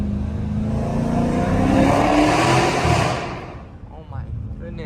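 A hoodless Dodge Challenger Scat Pack with a 392 engine revs hard in a highway tunnel, a loud roaring swell that builds, peaks, then cuts off into quieter road noise.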